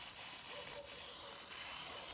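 Water hisses steadily through a garden hose connected to a drip irrigation line, a soft continuous spray close by, alone without voices.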